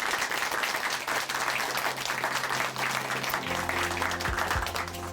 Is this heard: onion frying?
no